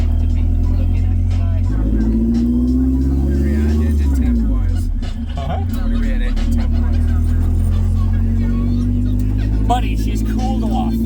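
A Toyota AE86 with a swapped K24 engine idles loudly and close, with a rising rev midway before settling back to a steady idle; people talk briefly over it.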